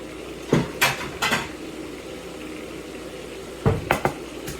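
Dishes and utensils clatter in a home kitchen while sautéed squash is being served, a few quick clinks early, a quiet stretch, then another short cluster of knocks over a low background hum.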